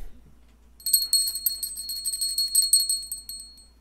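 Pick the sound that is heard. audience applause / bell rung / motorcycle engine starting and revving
bell rung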